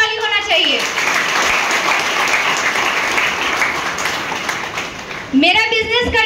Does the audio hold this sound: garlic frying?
no